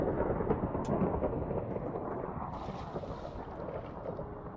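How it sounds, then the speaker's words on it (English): Low, continuous rumbling thunder from a Minecraft storm rolls steadily and fairly loud throughout, with a wind-like hiss over it and no voices. "Aren't I a bit low down in the world to be hearing the thunder still?"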